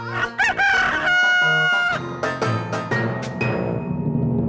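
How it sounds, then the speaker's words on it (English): A cartoon rooster crows loudly in a long, wavering cock-a-doodle-doo, followed by a run of quick, sharp squawks and clucks that trail off near the end. "If you are going to keep chickens, you have to say goodbye to flower gardens."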